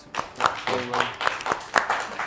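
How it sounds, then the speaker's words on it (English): A small audience gives a brief, light round of applause, scattered claps of moderate loudness with a voice speaking over them. "Let's give a little round of applause."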